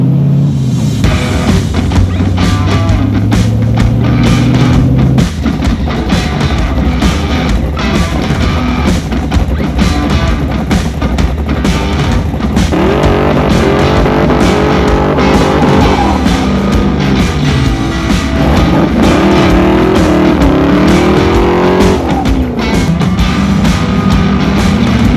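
Hot rod fitted with a fabricated stainless header, driving under load with a loud, continuous engine drone and shifting tones, no voices.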